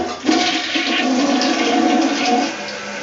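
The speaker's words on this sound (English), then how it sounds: "And then it goes down the drain." Toilet flush with water rushing down the drain, a loud, steady gushing roar sustained for about three seconds, close and alone with no talk.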